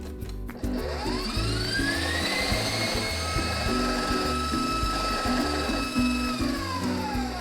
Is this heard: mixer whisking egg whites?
yes